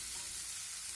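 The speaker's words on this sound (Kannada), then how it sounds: "ಈ ಉಪ್ಪಡ್ ಪಚ್ಚೀರ್ ಹಾಕಿದ ನಂತರ ಇದನ್ನು ಚೆನ್ನಾಗಿ ಇದರಲ್ಲಿ 3 ನಿಮಿಷದವರೆಗೆ ಫ್ರೈ ಮಾಡಿಕೊಳ್ಬೇಕು." Salted jackfruit stir-fried in a pan, Mangalore style, a dense, even sizzle filling the whole moment, close and steady with no voices.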